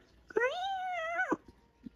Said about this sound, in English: you'll hear a cat's yowl